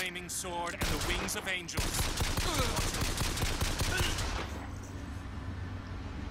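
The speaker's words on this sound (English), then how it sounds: "They're all shooting at me." Gunfire in the video game Bioshock Infinite, a dense fusillade of rapid shots and bursts that rattles on for several seconds before fading to a low ambient hum.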